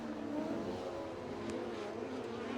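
A modified sprint race car engine roaring at Ruapuna Speedway, a sustained, droning engine note held at high revs from a moderate distance without a break.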